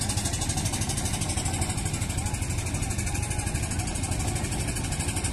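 Engines of sand-carrying trawler boats near a dredger on a river in Mymensingh chug steadily, a continuous rhythmic mechanical drone at moderate distance with no clear voices.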